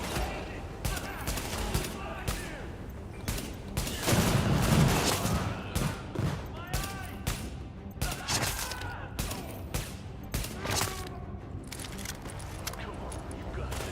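Crossfire in The Division, sustained volleys of rapid gunshots with an explosive surge partway through, loud and continuous, with voices talking over the battle.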